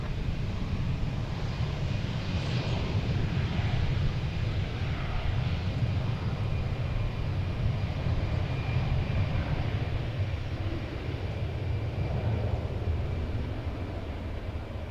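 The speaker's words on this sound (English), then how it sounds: "A Cessna Conquest." Cessna Conquest aircraft at DFW Airport, its engine giving a steady, broad roar that holds level throughout with some wind rumble, no voices over it.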